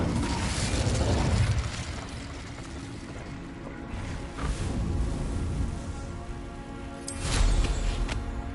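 An Incendio fire spell goes off in the Hogwarts video game: a loud whooshing burst of flame at the start, a steady crackling roar, then another surge of fire near the end.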